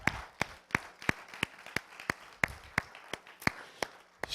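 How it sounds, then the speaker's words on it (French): A church congregation applauding songs in a worship service: a sparse, even round of about a dozen distinct claps at a steady rhythm, fairly quiet and without voices. "J'aimerais qu'on applaudisse les chants."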